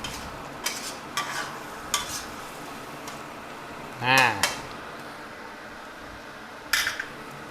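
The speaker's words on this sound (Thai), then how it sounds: "แล้วก็ผัดให้ต้นหอมสุกสักครู่หนึ่งก่อนนะครับ" Pork stir-fried with ginger and scallions in a pan: a spatula scrapes and clanks intermittently over a low sizzle, and a voice is briefly heard midway.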